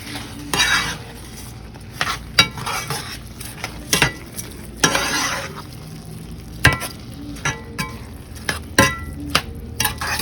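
Rice with peppers and garlic, for Spanish rice, is stirred and fried in a pan: continuous sizzle under repeated sharp clacks and scrapes of a utensil against the pan, close and irregular, no talking.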